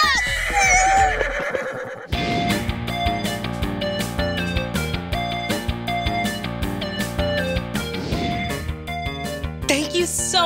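A horse whinnies loudly at the start in a wavering cry. Then a bright, busy children's music track plays on over it for the rest of the clip.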